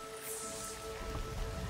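Rain patters softly in Horizon Zero Dawn, a faint continuous hiss over a low ambient tone with a slight swell near the end, heard without talk.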